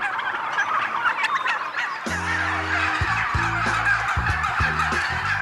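A flock of turkeys on a farm gobbles loudly in repeated overlapping bursts, close by, over a steady outdoor background.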